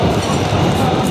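A tram runs along its tracks, a steady dense rumble with a faint rattling texture that fills the whole short stretch at high level, heard close up from on board or nearby.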